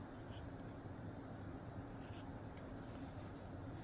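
Scissors snip into the gaps of a cloth doll body, faint quick clips over a steady background hiss, no voices.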